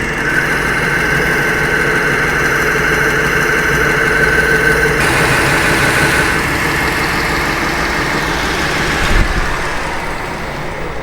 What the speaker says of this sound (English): that was the ultra fine conditioning belt, and I keep it loaded down with rouge